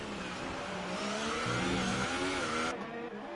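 Formula 1 race cars, a Haas and a McLaren, scream along in a racing video game, their high engine notes close and loud, rising and shifting as they run together before one cuts off sharply.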